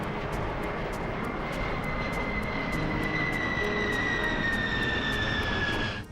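Airbus A320 jet engines running at full thrust during a low fly-by at about 30 feet, a loud sustained roar with a rising whine, steady throughout and with no talk.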